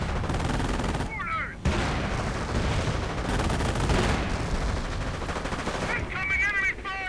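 Artillery and gunfire in a World War II real-time strategy game, dense overlapping booms and crackling gunshots throughout, with brief whistling shell sounds, a continuous loud battle din.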